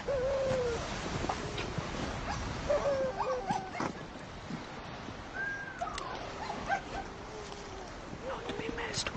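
Sled dogs with blue eyes whimper, yelp and whine continuously, close by, with an occasional bark amid lively outdoor commotion while people talk.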